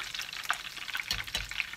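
Hot frying oil crackling and sizzling in a pan, a dense, close stream of small pops and spits at moderate level with no voices.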